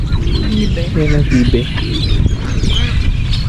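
Ducks gather and call around a person feeding birds by the water, a busy chorus of quacks and clucks close by, with someone talking over the birds throughout.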